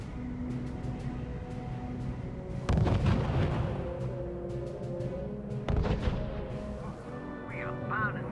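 Gunfire and artillery in the World War II strategy game R.U.S.E., with a steady low battle rumble broken by two heavy booming blasts, then a short radio-style voice near the end.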